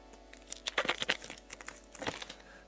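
A Gundam card game booster pack is torn open, with bursts of crinkly foil tearing and crumpling in close, uneven clusters and no talk.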